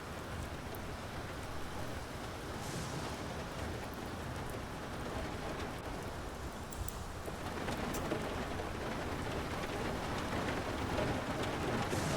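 Rain lashing a submarine deck in the naval game UBOAT, a dense steady downpour hiss with faint low rumbles beneath, constant and moderately loud without speech.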